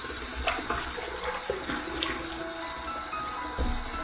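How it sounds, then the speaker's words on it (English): Running water from a tap splashes steadily into a sink while wetting the face before a shave with a Parker 96R safety razor, a constant close rush with a few small knocks. "now we can wet the face and get to the shave."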